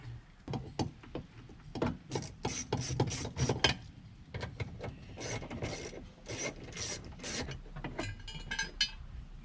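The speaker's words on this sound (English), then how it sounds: "all I gotta do is just loosen everything up here" A ratcheting tool clicks in repeated bursts while loosening screws on an interior panel of a Jeep Cherokee XJ, close and fairly quiet, with no one speaking.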